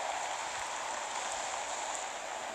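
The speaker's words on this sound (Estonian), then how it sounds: "padukas." Heavy rain pours down steadily in a Roblox Natural Disaster Survival game, a dense continuous hiss of a downpour with no talk over it.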